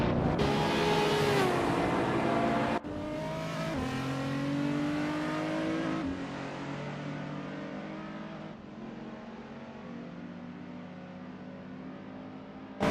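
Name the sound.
racing cars accelerating at NOLA Motorsports Park in a racing game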